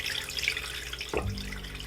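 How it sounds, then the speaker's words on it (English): Lukewarm water poured into a stand mixer bowl for sourdough sandwich bread, a close, steady trickling splash with a brief deeper gurgle near the end. "I'm going to add 1 1/4 cups of lukewarm water to my"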